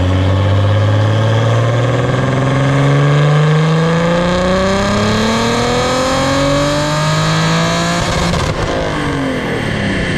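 A BMW engine with a KLM downpipe and an otherwise stock exhaust revs up loud and close, its pitch climbing steadily through a long pull before easing off into a deep, burbling rumble near the end.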